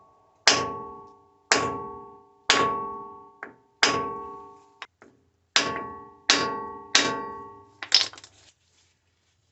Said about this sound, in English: I'm going to get this wooden block, put it on here and hit it with an actual hammer